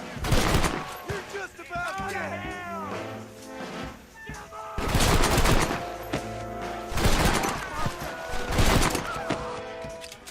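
Gunfire in the video game Red Dead Redemption: loud pistol shots in several bursts, with echoing cracks and game effects between them.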